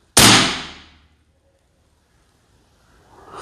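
A single sharp, loud report from a side-lever NovaVista Cobra PCP air pistol with a short barrel, decaying over about a second and followed by near silence.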